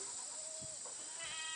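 Goats in a goat yard give a couple of short, faint bleats over a steady hissing outdoor background.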